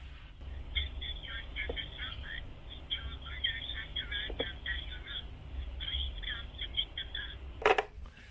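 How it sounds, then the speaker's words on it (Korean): A phone ringing in a Chinese hotel room announces that a delivery robot has arrived: a repeating electronic ringtone pattern plays steadily at moderate volume over a low background hum, with a few faint knocks. "지금 로봇이 도착했다고 지금 전화가 온 것 같아"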